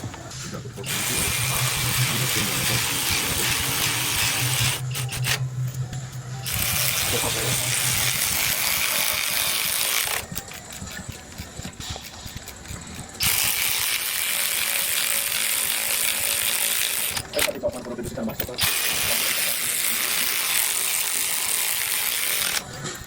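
Torque wrench ratcheting while tightening the cylinder head bolts of an LS engine: long runs of loud, rapid clicking broken by short gaps, close by, with a voice speaking briefly during the pauses.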